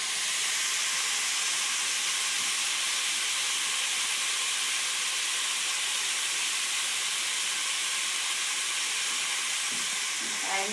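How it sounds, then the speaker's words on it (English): Bacon frying and crisping in a pan, a steady bright sizzle and hiss held close and continuous throughout, with no talk over it. "You can see that our bacon's starting to get a little bit more crisper"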